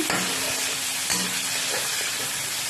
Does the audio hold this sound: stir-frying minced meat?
yes